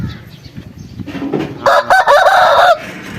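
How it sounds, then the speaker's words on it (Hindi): A rooster crows in a village at daybreak, one loud drawn-out call rising clearly over faint background noise near the end of the clip. "मुर्गे ने अजान दे दिया है"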